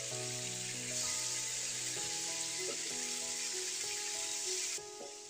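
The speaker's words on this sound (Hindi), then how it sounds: "पैन में आधा कप ऑयल को गर्म करने के बाद जो चिकन हमने मैरिनेट किया था उसे इसमें फ्राई कर लूँगी।" Marinated chicken frying in half a cup of hot oil in a pan over a medium flame, a dense, steady, close sizzle that crackles continuously and drops slightly at the end, with no talking.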